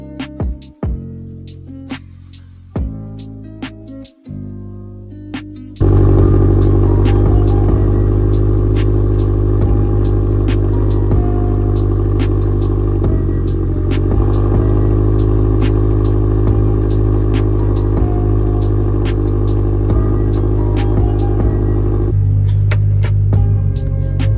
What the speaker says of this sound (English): Let's go ahead and start the car up, the old girl